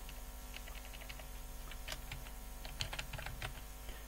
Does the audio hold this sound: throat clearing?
no